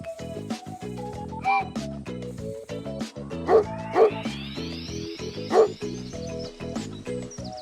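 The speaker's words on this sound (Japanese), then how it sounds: "そうだね。 犬だね。" A cartoon dog in an animated children's educational show barks and yips several times over bright, bouncy background music, the barks sharp and close, standing out above the melody.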